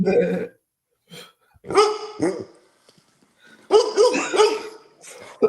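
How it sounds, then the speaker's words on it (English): A dog barks in several short, sharp bursts at close range, with quiet gaps between the volleys. "I don't even know whose dog's barking"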